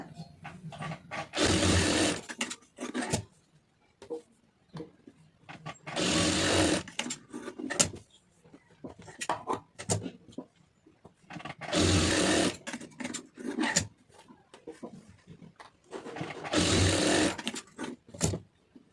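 A sewing machine stitches a blouse neck piece in four loud, rapid whirring runs at close range, separated by quieter stretches of fabric handling and small clicks.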